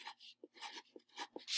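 Pen or marker writing a chart title on a board, quick, close scratchy strokes in short bursts with brief pauses between words.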